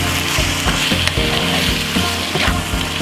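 Chopped tomato sauce is stirred into butternut squash spaghetti frying in a pan, giving a steady close sizzle with repeated scraping stir strokes throughout.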